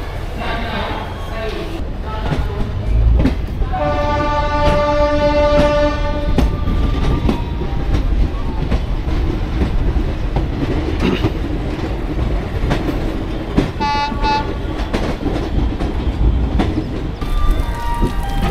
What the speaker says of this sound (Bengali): আমাদের ট্রেন কিন্তু ঠিক 9:60 সমস্তিপুর জাংশন থেকে ছেড়ে দিয়েছে তার পরবর্তী হল্টের দিকে।